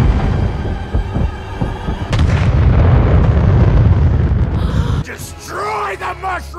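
A loud, deep explosion from the Super Mario Bros movie rumbles heavily for several seconds, then gives way to a dubbed voice speaking over softer sound.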